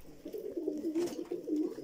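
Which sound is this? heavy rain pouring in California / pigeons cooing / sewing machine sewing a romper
pigeons cooing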